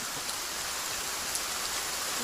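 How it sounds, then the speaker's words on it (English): Steady rain falling in a continuous, even hiss on a surface, moderately quiet and unbroken throughout, with no voices heard. "It's raining."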